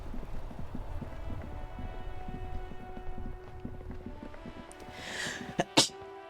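A single sharp sneeze breaks out near the end, over a background of game sounds, including rhythmic clip-clop-like steps, during a Disco Elysium play session.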